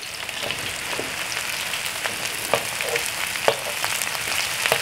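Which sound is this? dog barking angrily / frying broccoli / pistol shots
frying broccoli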